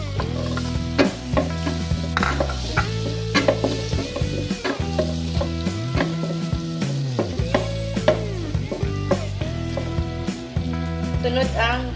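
Chopped onion frying in a pan for carbonara gives off a steady sizzle with occasional stirring, partly buried under background music.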